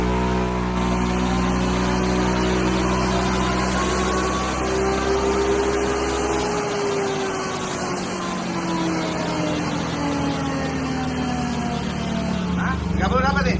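A Yamaha XMax 300 scooter engine, bored up to 300cc with a new exhaust, drones continuously at high revs on a dyno, its pitch shifting and sliding over time, loud and close, with a dense mechanical whine.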